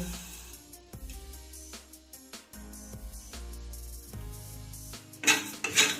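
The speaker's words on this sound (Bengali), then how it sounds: "এটাকে আমি শুকনো খোলায় হালকা ভেজে নেব" Gobindobhog rice dry-roasted in a kadai, with soft scraping and stirring scratches of a spatula against the pan, quiet and intermittent under faint background music, growing a little busier near the end.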